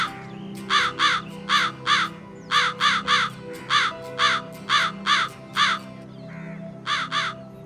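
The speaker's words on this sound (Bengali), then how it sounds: "কাকটা নিজের পায়ে রুটিটা চেপে ধরে বেসুরা আওয়াজে গাইতে" A crow caws in a harsh, tuneless voice, about fifteen short paired calls in a steady rhythm, loud and close over a faint background hum, with no speech.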